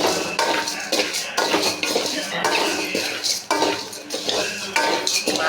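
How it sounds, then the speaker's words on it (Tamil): Puffed rice and chana dal are dry-roasted in a pan, a spatula scraping and clinking against the metal in busy bursts with brief pauses, close and fairly loud, no talking. "இந்த பொரியரிசியையும் கடலைப்பருப்பையும் நல்லா வறுத்துக்கணும்"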